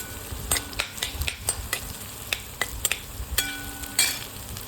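Onion, garlic and green chili for methi bhaji fry and sizzle quietly in a pan. A spoon scrapes and clinks against it again and again.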